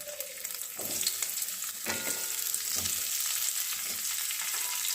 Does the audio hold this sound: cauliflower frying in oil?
yes